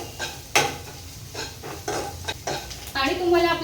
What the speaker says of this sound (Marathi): कांदा सुद्धा छान परतून घ्यायचा आहे. आणि कांदा आहे ना ते स्लो गॅसवरती परतून घेणार आहे.